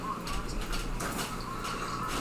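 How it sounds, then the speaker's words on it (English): An electric fan runs steadily in the background, a faint continuous whooshing hum with no breaks. "that noise is my fan in the background"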